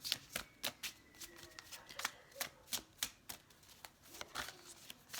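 A deck of cards is shuffled repeatedly, with crisp riffling flutters and soft slaps in a steady, quick rhythm, close and fairly quiet.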